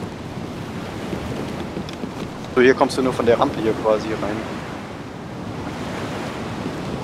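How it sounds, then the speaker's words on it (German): Ocean surf from the DayZ video game washes steadily throughout, a broad, continuous wash of waves with wind, while someone speaks briefly over it in the middle. "Die Wellen."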